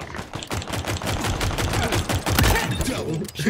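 Pistol fire in a Halo multiplayer match comes as rapid, sharp shots, some overlapping, close and loud in a near-continuous volley with brief gaps.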